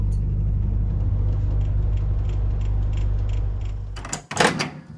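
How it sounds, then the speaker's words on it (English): A microwave oven cooking a chocolate nut mug cake hums steadily with a low drone for about four seconds, then stops with a few sharper clicks and a door-like clunk near the end. "Place in the microwave for 1"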